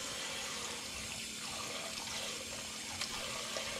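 Water runs steadily from a tap into a wash bin as celery bunches are rinsed, a continuous close hiss with faint splashes throughout and no talking.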